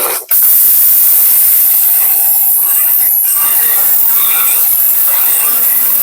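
A kitchen blender, sold with a multi cooker, grinds dry coarse rice into powder. The grinding roar is loud and continuous for about six seconds, with a steady motor hum beneath the rough whirring.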